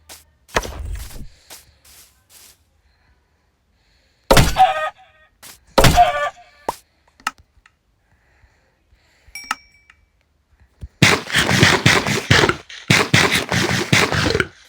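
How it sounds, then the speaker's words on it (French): A Minecraft chicken's short clucks and a few sharp thunks come in scattered bursts amid silence, followed by a denser stretch of rapid clucking and thumping near the end. "Oui, il y a un poulet. Le poulet là."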